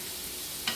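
Small onion in four tablespoons of butter sizzles softly in a cast iron pan on low heat, a steady faint hiss with a brief stirring scrape near the end.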